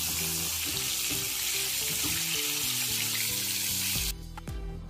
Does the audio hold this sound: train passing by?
no